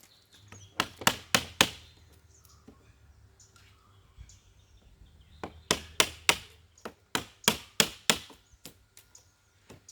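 Wood is chiselled while a bamboo tool is made: two quick bursts of sharp, dry knocks ring out, with scattered single taps between them and faint birdsong behind.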